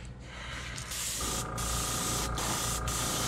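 Steady airbrush hissing continuously while painting a fishing lure, close and fairly loud, with a brief pause partway through and a faint mechanical hum underneath.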